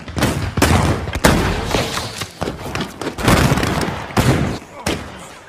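Gunfire volleys in a western film as villagers fire on command, with repeated loud, sharp rifle shots in ragged bursts, some overlapping, close and echoing.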